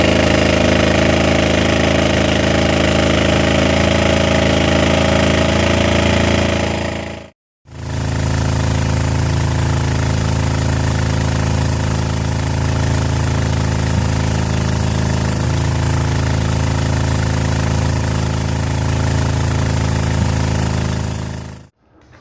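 A rebuilt 1985 Suzuki GS450 motorcycle engine runs steadily and loudly up close, a continuous rumbling drone that cuts out briefly, then restarts and keeps running without talk.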